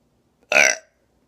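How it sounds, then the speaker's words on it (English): One loud, short burp, alone against silence. "So I could burp pretty loud, and I mean pretty loud."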